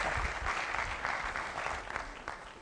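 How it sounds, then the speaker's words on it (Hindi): Audience at a Hindi-language network marketing training session claps in a fairly muted, steady patter that sounds modest and unenthusiastic, moderately distant and without talk over it. "ये तो बड़ी मरी हुई तालियां थी आपकी।"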